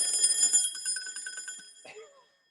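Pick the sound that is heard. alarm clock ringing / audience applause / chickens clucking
alarm clock ringing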